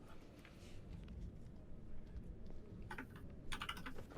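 Typing on a computer keyboard, faint clicks and short bursts of keystrokes, heaviest near the end, over a low background hum.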